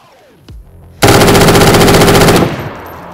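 Loud, sustained burst of rapid automatic gunfire in DayZ, preceded by a single sharp shot, then a fading echo.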